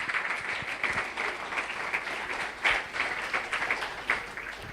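Audience applause for Professor Caroline Cooper at a Peter Tosh symposium, a steady, dense round of clapping from a hall crowd lasting several seconds, fairly even in loudness with no talk over it.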